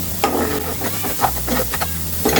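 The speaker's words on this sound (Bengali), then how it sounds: "আমার মশলাটা একদম ভাজা ভাজা হয়ে গিয়েছে।" Spice masala sizzles in a pan for a village-style rui fish dish while a spoon scrapes and stirs it in quick, close strokes over a constant frying hiss.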